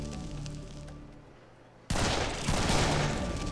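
Sustained gunfire at enemies in Serious Sam 3 BFE erupts suddenly after a quieter stretch of ambience and becomes a dense, loud, continuous roar of rapid shots.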